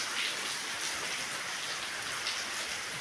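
Steady rain falling on a covered car outdoors, a dense continuous hiss of drops pattering on the cover with no voices.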